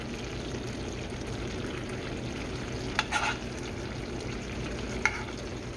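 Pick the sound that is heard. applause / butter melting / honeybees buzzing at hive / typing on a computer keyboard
butter melting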